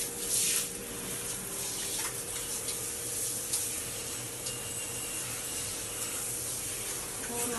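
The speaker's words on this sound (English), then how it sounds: "Just going to rinse it all down so you can get rid of all the cleaner that's on it." Hot water sprays steadily from a shower head to rinse cleaner off a tiled shower, a continuous hiss with brief louder bursts as the spray hits the surfaces, close and without talk.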